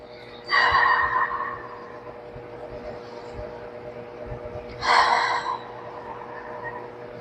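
Two slow, deep exhaling breaths during a body scan meditation, each a long airy whoosh close to the microphone, separated by a quiet pause over a low hum.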